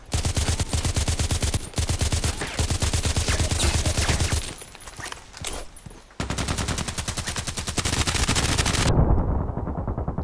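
Long-range gunfire in the Contract Wars shooter, with sustained rapid automatic bursts that break off briefly and then resume, loud and close, ending abruptly without any talk.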